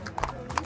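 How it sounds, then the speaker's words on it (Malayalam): A horse's hooves clip-clop a few times close by in an open outdoor setting, with faint background noise and no speech. "ഹായ് നൈസ് കുതിര അല്ലേ?"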